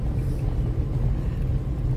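A car on a dark, single-lane night road produces a constant close low engine and road rumble, with no other sounds.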